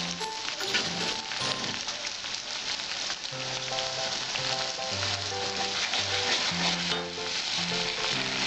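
Green chili paste, salt and turmeric frying in a hot pan make a loud, steady sizzle and crackle that runs unbroken throughout, with soft melodic music playing underneath.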